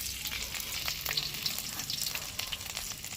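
Chopped garlic frying in mustard oil, a continuous close bubbling sizzle with scattered sharp crackles and pops throughout, steady and moderately loud with no talking.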